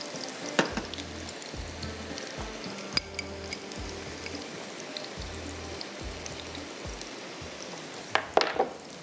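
Tadka of green chillies and ground garam masala frying in a pan over ginger, a quiet steady sizzle with scattered clinks of a utensil against the pan, and a sharper clatter near the end.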